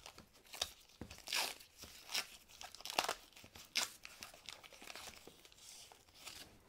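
Double-sided tape is peeled and torn in short crackling rips, several quick crinkly bursts close by and quiet in a workshop.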